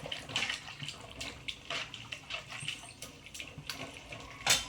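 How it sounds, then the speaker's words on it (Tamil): Water splashes and pours in uneven bursts into a pot of Tamil oil brinjal kara kuzhambu (eggplant curry), with a louder splash at the end; no talking. "தண்ணி சேர்த்துட்டு நல்லா ஒன்றா மிக்ஸ் பண்ணி விட்டுருங்க"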